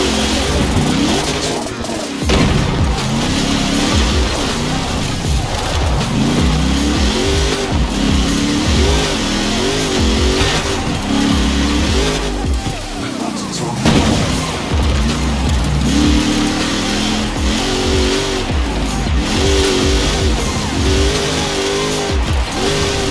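Honda Ridgeline Baja race truck tearing off-road in Forza Horizon 4, a loud continuous engine roar with repeated revving swells, bumps and thuds from rough terrain, and no talk over it.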